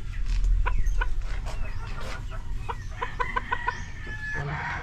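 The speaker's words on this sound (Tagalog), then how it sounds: "Boss Maki, dito sa mga alaga nyo nga manok boss" Gamefowl roosters of Gull and Claret breeder stock at a Tuburan, Cebu farm cluck in short repeated bursts, close by, with a brief crow-like call and farm background noise and no talk.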